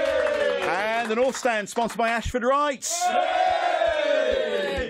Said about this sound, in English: we do have a capacity crowd, as you can hear